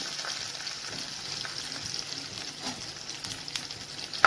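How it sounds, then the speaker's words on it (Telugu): Dried red chillies, green chillies, asafoetida and fenugreek seeds tempering in hot oil give a steady, close sizzle and crackle with a few sharper pops, no voices. "ఇవి వేసుకొని పోపు వేసుకోవాలి"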